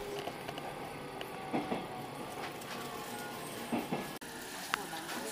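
A Japanese local commuter train arriving at Ōgaki station gives a steady rolling rumble with faint clatter and a sharp clunk near the end, while people talk over it.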